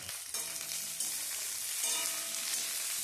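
Onion with green and red capsicum frying in a pan, a close, steady hiss and sizzle with light scraping from stirring and a few shifts in intensity as the vegetables are moved.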